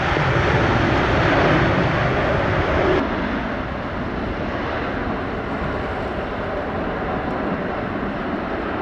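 A JetBlue airliner on approach to runway 07 roars steadily, a broad loud engine drone that eases slightly after a few seconds and holds on without talk.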